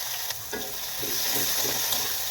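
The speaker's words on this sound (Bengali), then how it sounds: "তার আগে বেগুনটা ভেজে নিই" Eggplant slices fry in hot oil in a wok, a steady close sizzle broken by a few soft scraping stirs, with no voices.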